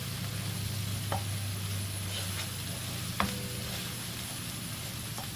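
Minced meat sizzling in a Tefal non-stick pan while being cooked for spaghetti, a steady close frying hiss with a few faint clicks and taps of stirring, no voices.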